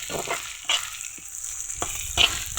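Chopped garlic and onion, with whole green chilies, frying together in oil, a soft continuous sizzle broken by a few scraping stirs of a spatula in the pan.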